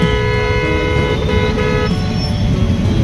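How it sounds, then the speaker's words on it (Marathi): Car horns blare almost without pause in a traffic jam at a busy city junction, Sathe Chowk in Nanded. Several horn tones overlap over a low rumble of idling vehicles. "एवढी ट्रॅफिक जाम आहे भयानक"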